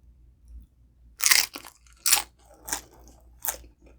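Someone bites into pork carnitas nachos from El Pollo Loco, giving four or five loud, close tortilla-chip crunches spaced about a second apart over faint background hiss.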